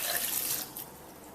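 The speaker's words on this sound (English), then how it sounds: "Now we'll also take the water and pour this in here." Water is poured into the rock-salt-filled cylinder of a Mikamax Retro 08UNI4409 vintage slushie machine, making a short, bright, close splashing gush that quickly tapers into a quieter trickle.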